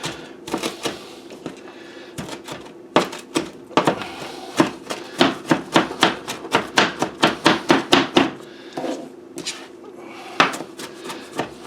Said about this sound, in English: we're just gonna coarsely chop it up